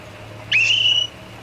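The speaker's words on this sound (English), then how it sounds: "That ain't a police whistle, it's a sporting whistle." A single sharp sporting whistle blast, high and piercing, lasting about half a second over a low background hum.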